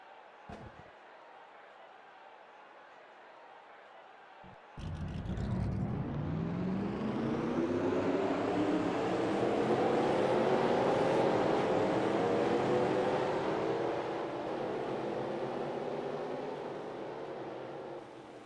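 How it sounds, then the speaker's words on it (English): Race car engines fire up at Daytona for a qualifying duel, a quiet lead-in broken by a sharp start before a loud field of engines roars and swells, then holds a sustained rumble. "Drivers, start your engines!"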